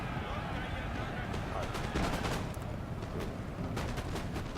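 Infantry foot guards fire muskets in Napoleon: Total War, a continuous crackle of scattered volleys and rippling shots sounding distant and fairly faint.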